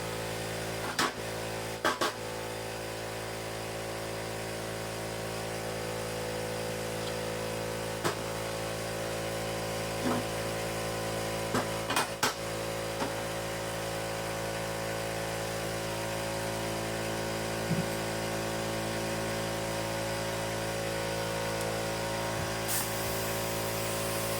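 A Tooliom 50 amp plasma cutter cutting steel plate, a steady, loud continuous hiss and hum held for the whole stretch, with occasional brief crackles and pops and no talk.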